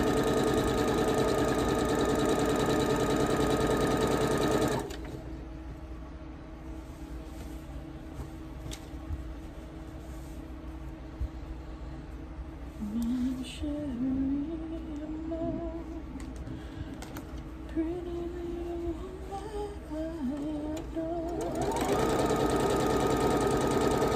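A sewing machine stitching sashing onto quilt end pieces runs with a steady, close mechanical whir, pauses in the middle while quieter handling noises are heard, then resumes its hum at the end.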